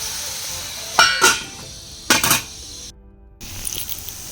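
Tomatoes frying in a covered pan after onions, for an eggplant (vankaya) masala curry: a constant soft sizzle runs underneath, broken by two loud metallic clatters of lid and utensil, a brief silence, then sizzling resumes with light clinks.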